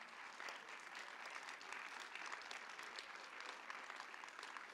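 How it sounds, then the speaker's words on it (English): Steady applause from an audience at the IGF 2021 closing ceremony, dense clapping sustained throughout at a moderate distance, with no talking. "to make a big applause for the great organizing team"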